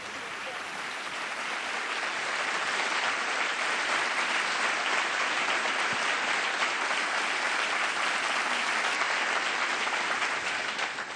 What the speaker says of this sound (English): as you can hear from the applause